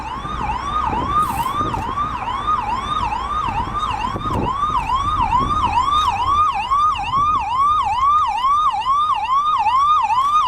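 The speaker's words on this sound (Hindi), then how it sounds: "इसलिए एम्बुलेंस तेजी से एयरपोर्ट की तरफ भाग रही है।" A wailing ambulance siren carries a donor heart at speed toward the airport in Surat, its rising and falling wail cycling steadily and loudly over road and engine rumble for the whole stretch.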